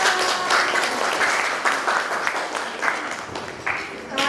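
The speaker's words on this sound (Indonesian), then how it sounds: "Untuk itu berikan tepuk tangan buat kita." A classroom group claps in applause, a loud, dense burst of many hands close by, swelling and easing in uneven waves for several seconds.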